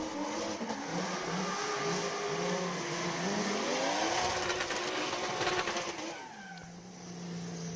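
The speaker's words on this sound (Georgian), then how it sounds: "ნახოთ თორნიკე რეხვიაშვილი როგორ დაამთავროს თავის გარბენს, ბოლო გარე ზონა უნდა გაიაროს." A drift car finishes its run at a King of Drift event, engine droning and revving through shifting pitch with tire squeal, loud and continuous from start to end and easing off near the close.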